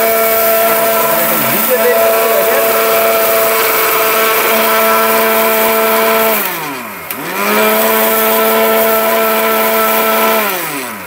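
A robot blender grinds cumin seeds with a loud, steady high-pitched motor whine, close up; the pitch sags sharply once midway as the load bogs the motor, then climbs back to full speed.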